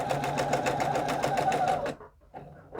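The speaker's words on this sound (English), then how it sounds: "add that label using the sewing machine" A sewing machine stitches a label onto a small youth travel pillowcase, whirring rapidly and steadily for about two seconds before stopping, then giving a couple of brief stitch bursts.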